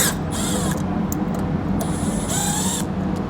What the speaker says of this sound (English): We're using a T15 Torx bit to get this done.